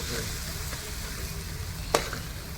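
Tomatoes and onions fry in a pan for a tamarind fish curry, with a steady moderate sizzle and soft stirring. A single sharp clink of a utensil cuts in near the end, and there is faint talk in the background.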